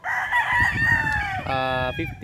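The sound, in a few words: chickens and rooster crowing at a farm breeding area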